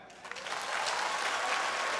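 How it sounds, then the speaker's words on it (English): Comedy club audience breaks into steady applause on cue during a stand-up set, clapping swelling quickly into a dense, sustained wash of many hands. "Clap."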